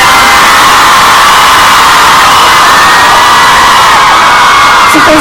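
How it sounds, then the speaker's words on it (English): An enthusiastic crowd cheers and shouts for someone at a festival event, a loud, continuous roar of many voices with whoops, and a single word spoken near the end. "I've not seen such an enthusiastic crowd anywhere"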